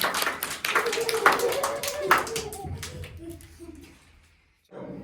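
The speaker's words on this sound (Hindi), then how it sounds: "तालियां बजाओ, तालियां सब।" Children and family in a room clap hands during a kids' game, with quick rhythmic claps under lively voices that fade out, a short pause, then chatter returns.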